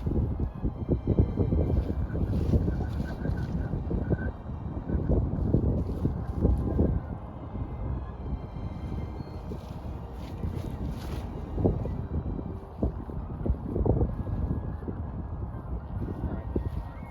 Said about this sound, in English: quite a bit of headwind there, so not the greatest